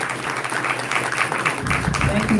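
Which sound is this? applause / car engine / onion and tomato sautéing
applause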